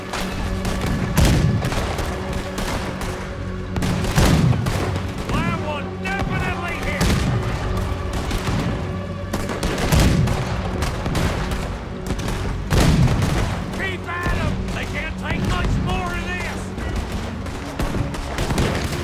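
Booming cannon blasts and crackling gunfire from a naval battle in the video game Red Dead Redemption 2, with heavy shots recurring every few seconds over steady battle noise.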